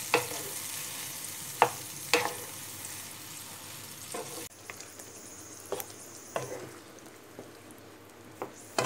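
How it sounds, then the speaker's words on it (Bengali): Pieces of meat frying in hot oil in a pan, a steady low sizzle broken by several sharp scraping knocks of a spoon as it is stirred, close by with no talk. "তো এই মাংসটা দিয়ে দিলাম তেলেতে, দিয়ে এবার একটু ভালো করে নাড়ানাড়ি করে কষিয়ে নিতে হবে।"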